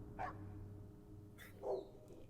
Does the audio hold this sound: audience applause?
no